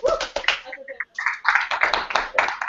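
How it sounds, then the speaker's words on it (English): A small group clapping close by, brisk and uneven, with a brief pause partway through and voices mixed in. "Clap for Will!"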